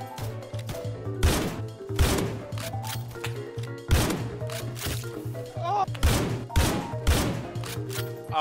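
Sniper rifles fire in the Roblox game Criminality: loud, sharp cracks at irregular intervals of about a second, each with a booming tail, while a voice talks in between.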